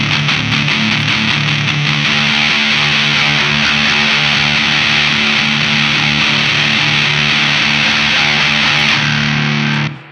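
An electric guitar through a Walrus Audio Fundamental Distortion pedal with the gain maxed grinds out a thick, murky, fuzzy chord that rings steadily and loudly throughout before cutting off at the end.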